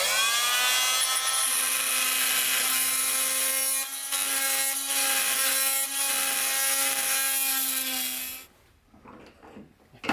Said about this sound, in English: the oscillating tool with this little cutoff here is the tool for the job for this guy